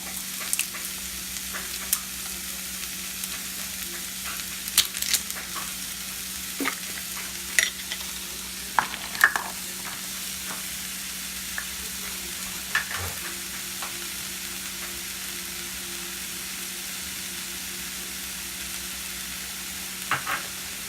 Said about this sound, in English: I'm gonna fry this down a little bit. Let it get translucent. Put my garlic in there.